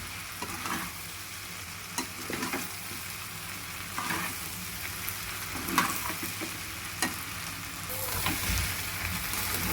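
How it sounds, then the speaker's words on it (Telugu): Andhra-style okra fries in a pan with salt and chili powder, giving a constant sizzle. A spatula stirs and scrapes through it in scattered strokes, close and moderately loud, with no voices. "బెండకాయలకి కలిపేలాగా మనం బాగా కలుపుకోవాలి."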